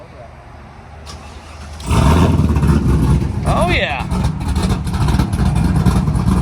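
An old pickup's engine fitted with a Donald Thump cam from Hawks, a 6-speed and a Borla exhaust starts up and idles loud and close with a lumpy rumble. Someone talks over it.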